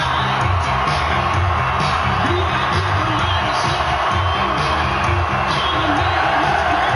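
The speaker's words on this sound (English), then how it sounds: "This crowd on its feet for the NWA champion." Arena crowd in the WWE 2K17 wrestling video game roars and cheers continuously, a loud dense wash of voices with whoops, as a champion heads to the ring.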